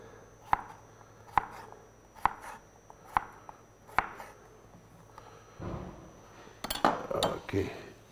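A knife chopping cucumber into small pieces about a centimetre apart, five evenly spaced sharp taps on a board, then a brief rustle and a quick burst of faster clinking chops, close and clear.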